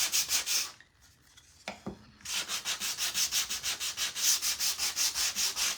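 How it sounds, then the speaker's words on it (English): A wooden scarecrow craft piece is sanded by hand in quick, steady back-and-forth strokes, close but soft, with a brief pause partway through before the rhythmic rubbing resumes. "almost done with the sanding"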